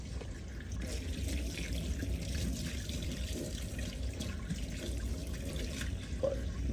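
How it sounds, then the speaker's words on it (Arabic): A mobile phone is submerged in water, giving a faint, continuous low watery wash with light trickling and dripping textures and no voices. "هنغرق التليفون مية علشان محدش يقول انت بتعمله بس مية"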